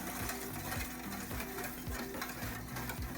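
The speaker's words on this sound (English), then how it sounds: "Now, I'm going to whisk it all together," A whisk beats eggs, salt and other ingredients together in a bowl for chocolate chip French toast, giving a steady, close, rhythmic scraping and clicking that runs continuously without talk.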